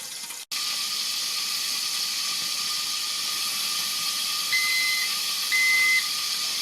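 A steady, close hiss of steam from a covered frying pan of chicken and vegetables on maximum heat runs throughout, with a faint whistling tone near the end and a brief click at the start.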